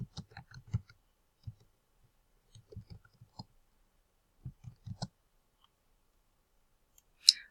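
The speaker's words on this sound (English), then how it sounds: "Now I'm going to type in the body of the memo." Computer keyboard typing comes in short, irregular clusters of soft, close key clicks separated by pauses, in an otherwise quiet room with no speech.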